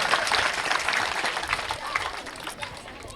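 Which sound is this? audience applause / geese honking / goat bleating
audience applause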